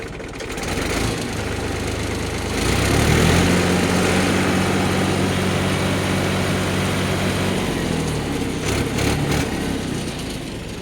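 A Mahindra 295 tractor with a freshly overhauled engine idles nearby, a steady low throbbing drone that swells into a slightly higher, smoother hum for several seconds before settling back.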